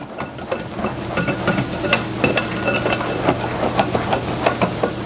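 A whisk beats flourless chocolate cookie batter in a bowl, giving a steady run of close scraping, tapping strokes against the bowl.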